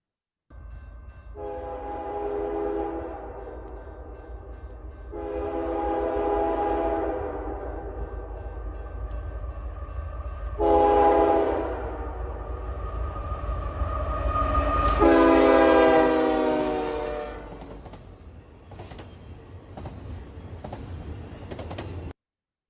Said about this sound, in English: And then we heard a horn.